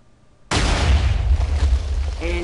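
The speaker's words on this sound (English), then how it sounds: "off being no explosion and on being explosion" Loud sudden boom-like burst used as an explosion sound effect for a molecular switch science demonstration, hitting at once after near silence and sustaining a rumbling roar to the end.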